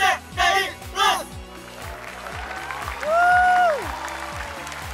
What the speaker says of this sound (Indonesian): Sekali lagi tepuk tangan untuk Pak Seban.